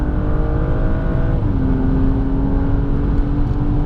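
A BMW 235i accelerates hard on the Spa race track, its engine note climbing steadily and loudly from inside the car, with a brief shift-like dip partway through and no talking.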